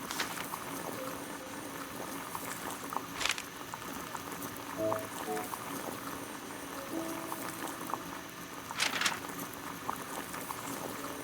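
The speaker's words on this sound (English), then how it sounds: "Boil water in kettle." Water boils in a kettle in a Sherlock Holmes video game, a soft steady bubbling simmer with a few brief clinks and sharper pops scattered through.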